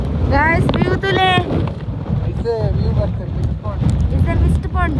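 Strong monsoon wind buffets the microphone at a hill viewpoint near a mist point in Coorg, a steady low roaring rush lasting throughout while people talk over it.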